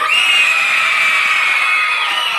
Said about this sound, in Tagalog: Ay, maingay sigaw ng grade 4.